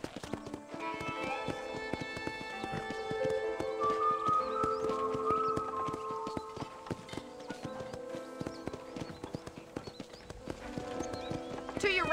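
Steady clip-clopping of horse hooves at a trot on a ranch in Red Dead Redemption, with a music score underneath, and a horse whinnies at times.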